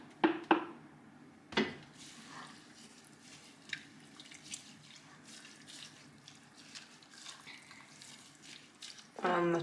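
Water pours from a tap or jug into a soup pot holding courgette, nettle and garlic, with a few clanks of pot and utensils at the start and a louder splash of running water at the end.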